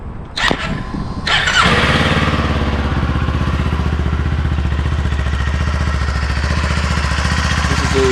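A brand-new 2024 Kawasaki Eliminator motorcycle starts up outdoors at a dealership: a brief crank, a catch, then a second crank that fires into a loud, steady, close idle with an even rhythmic pulse.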